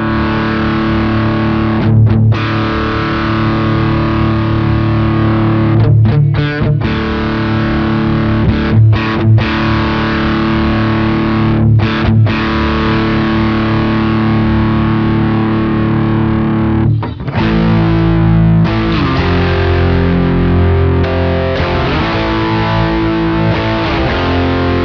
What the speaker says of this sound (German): Den verzerrten Rhythmus-Sound möchte ich jetzt.